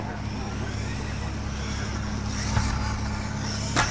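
Hobby Plus RC short course truck motor whining steadily as it drives down a straightaway, a continuous buzzing drone with a brief rise near the middle and end, under a voice.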